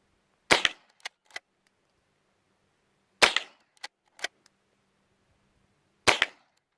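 A Browning BL-22 lever-action rifle with a maple stock fires three sharp, close shots several seconds apart, each followed by quick metallic clicks of the lever cycling, with quiet between.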